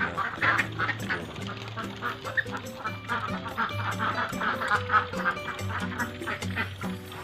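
Laying ducks on a duck farm quack steadily throughout, a dense overlapping chorus of many birds close by with no speech.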